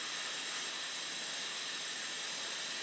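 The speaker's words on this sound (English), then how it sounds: "you need to see it boiling around the sides of the saucepan" Cheese sauce thickened with a roux boiling in a saucepan on the hob, giving a faint, steady hiss and soft bubbling that runs unbroken throughout.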